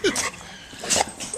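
A pit bull whimpers and yips in short, close whines, several brief cries over about a second, with a person talking alongside.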